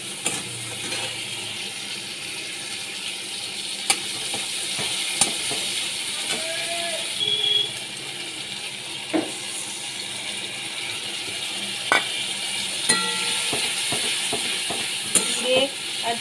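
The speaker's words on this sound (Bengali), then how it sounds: "ভালো করে এবারে এগুলোকে কষিয়ে নিচ্ছি" Salt, turmeric and ground spices sautéing in a pan for a fish curry, a steady low sizzle with scattered clinks and scrapes of a spoon stirring, close and continuous throughout.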